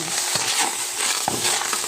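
A wooden ladle stirs banana stem curry in a pot over low heat, giving soft, continuous scraping and gentle sizzling with a few sharper knocks, close and steady.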